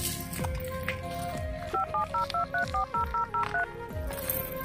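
A rapid string of about a dozen electronic dialing tones beeps in even rhythm, set against faint background music with soft thumps.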